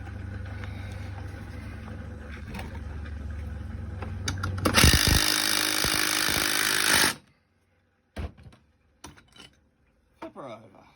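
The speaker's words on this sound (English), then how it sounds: "Finish off this top batten screw." A power tool driving a screw into a top batten, a loud buzzing whir for a couple of seconds after a rumbling engine-like background, then abrupt quiet broken by a few short knocks.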